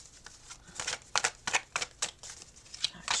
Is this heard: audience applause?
no